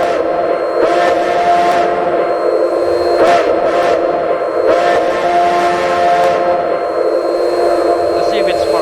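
The steam whistle of a 0-4-0T geared tank locomotive in a railroad video game sounds in several short and medium blasts over a continuous chuffing, hissing background, fairly loud with no talking.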